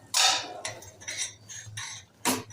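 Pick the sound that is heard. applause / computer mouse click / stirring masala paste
stirring masala paste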